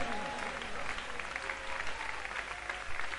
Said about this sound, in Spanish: Cierra tus ojos y aplaude.